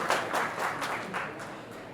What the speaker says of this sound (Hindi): कितनी तालियां बज रही हैं।